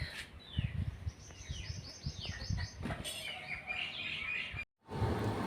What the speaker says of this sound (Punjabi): ਬਾਹਰ ਮਤਲਬ ਹਵਾ ਦੇ ਵਿੱਚ ਚਿੜੀਆਂ ਬੋਲ ਰਹੀਆਂ ਸੀਗੀਆਂ